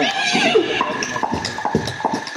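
A horse neighs and hooves clop in a quick rhythmic beat, close and loud, with a brief whinny near the start.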